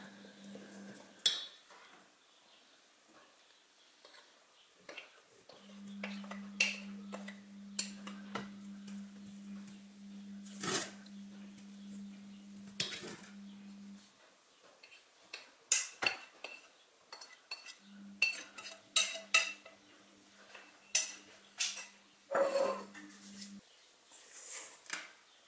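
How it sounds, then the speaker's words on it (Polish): Spatula stirring a fruit cake batter of flour, baking powder and beaten eggs in a bowl, with soft scraping and scattered light clinks against the bowl over a steady low hum, close and fairly quiet. "Mieszamy łopatką, nie mikserem."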